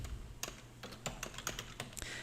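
Rapid typing on a computer keyboard at a desk, a burst of sharp clicking keystrokes in uneven rhythm, close and moderately loud over a low steady hum.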